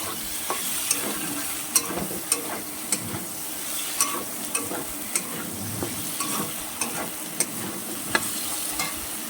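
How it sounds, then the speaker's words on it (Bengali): Prawns and whole potatoes frying in oil in a kadai, a continuous sizzle broken by regular sharp spatula taps and scrapes against the metal, close and with no talk. "চিংড়ি মাছগুলো নামিয়ে দিলাম কড়ার মধ্যে দিয়ে এটাকে ভালো করে ভেজে নিতে হবে"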